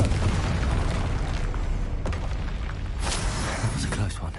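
Confringo blasting spell in Hogwarts Legacy on PS5, heard as a steady booming, rumbling blast with sharp cracks breaking through, loud and close the whole way, with some game voice underneath.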